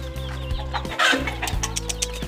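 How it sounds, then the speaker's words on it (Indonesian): Several free-range village chickens cluck and squawk nearby in short bursts over a steady low mechanical hum, with a flurry of louder clucking midway. "Banyak Pak ya ayamnya ini."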